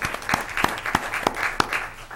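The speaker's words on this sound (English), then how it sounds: "Clap for Christine" A few people clap at a city council meeting for the deputy city clerk, sparse and uneven, with distinct individual claps ringing out at roughly regular intervals over a quiet room.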